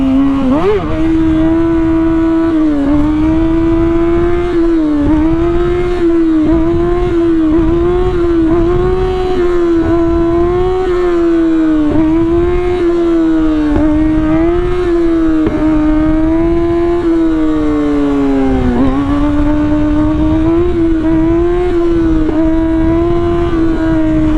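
A motorcycle engine in Halo Infinite revs loudly and continuously, its pitch rising and falling through repeated throttle blips and gear changes, close and steady throughout.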